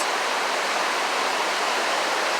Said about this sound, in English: so we just found this waterfall back here